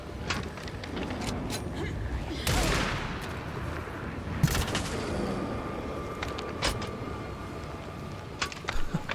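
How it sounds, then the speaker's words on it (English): Enemy gunfire in the horror video game Alan Wake II, with bursts of sharp shots and louder blasts scattered over a busy rumbling background, with a voice speaking now and then. "Didn't think it'd be actually getting like shot at."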